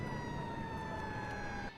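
A steady emergency siren wails continuously at moderate distance, holding a sustained high tone over low rumbling traffic noise, then cuts off near the end.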